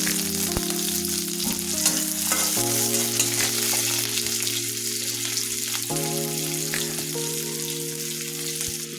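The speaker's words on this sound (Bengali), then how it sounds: "পেঁয়াজ কাঁচামরিচটা আমার ভাজা হয়ে গেছে।" Onion and green chili frying in hot oil for a vegetable bhaji, a steady loud sizzle with occasional stirring scrapes running throughout, no talking.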